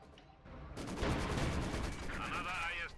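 Machine-gun and sniper fire from a Maxim team and Soviet snipers in Company of Heroes 2, a dense loud stretch of overlapping gunfire rattling for most of the clip with a whistling tone near the end.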